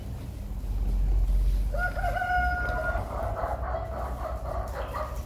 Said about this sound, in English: And one chicken is crowing